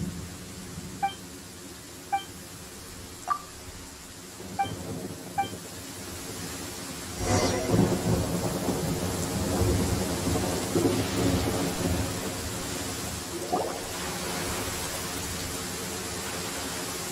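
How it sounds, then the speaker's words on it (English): Heavy rain and rolling thunder in the video game Genshin Impact, a steady loud downpour with deep thunder rumbles swelling midway, preceded by a few faint chiming notes. "With rain this heavy."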